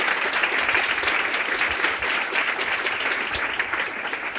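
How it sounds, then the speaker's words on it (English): Dense, even applause from a symposium audience at the 2019 PAIR Symposium on AI, honoring the panelists. The clapping is sustained at a steady level throughout, with no voices standing out. "Can we have a round of applause for our panelists"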